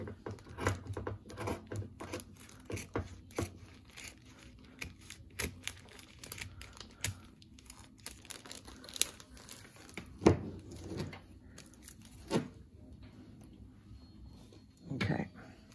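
Chenille fabric being cut with scissors for a sensory baby toy, producing scattered crisp snips and crinkling rustles at irregular intervals, close by, with a person talking intermittently.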